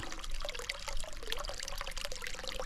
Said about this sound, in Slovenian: Za skal teče.